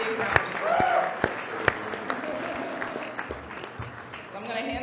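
A conference audience at a Rotary summit opening ceremony applauds, with the clapping washing steadily behind a voice that talks over it and a few sharper, louder claps standing out.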